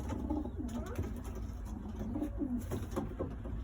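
Iraqi red pigeons coo nearby in soft, repeated throaty calls, several birds overlapping against a low background rumble.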